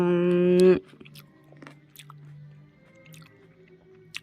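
Raw tomato is chewed close up with soft, wet squishing bites after a short hum of voice at the start.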